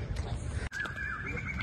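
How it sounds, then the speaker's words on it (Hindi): Outdoor birdsong: a thin, wavering chirp runs through the second half of the brief moment over soft low rumble and background noise. "इतनी अच्छी आवाज आ रही है पक्षी।"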